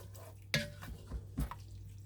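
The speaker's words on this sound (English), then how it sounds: "We're going to give it a stir all through the ground beef and the pork" Wine being stirred into ground beef and pork in an Instant Pot: a sharp utensil knock against the pot, then soft wet stirring and a second clunk over a low steady hum.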